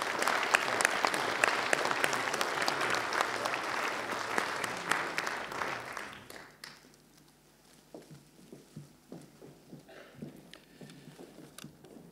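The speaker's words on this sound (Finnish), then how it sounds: "Ja vielä aplodit kaikille väitelle." Audience applause at an awards ceremony, loud dense clapping for about six seconds that then thins to a few scattered claps and light taps, with no voices over it.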